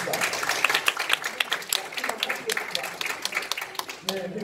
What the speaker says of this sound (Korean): 우리 모든 것을 틀어버리고 한 뜻으로 갈 수 있도록 박수 한번 주시겠습니다.